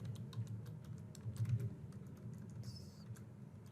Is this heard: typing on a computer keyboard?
yes